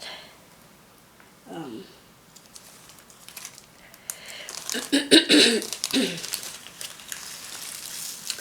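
A few short coughs and throat-clearing sounds from a person recovering from COVID break through, one early and a louder cluster later, over quiet room noise.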